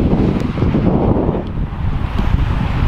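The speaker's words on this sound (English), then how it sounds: "the wind is just crazy" Strong wind during a slushy snowstorm with rain, heard as a loud, continuous low roar and buffeting against the microphone from a snow-plowing truck, without talk.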